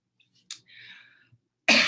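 A speaker at a design forum coughs twice, a short sharp burst followed after a quiet gap by a louder, harsher one close to the microphone, with faint breathing and throat sounds between them.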